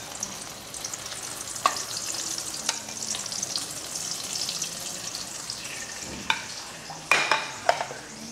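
An egg fries in a pan with a continuous close sizzle and crackle, broken by several louder clinks and scrapes toward the end, with no talking.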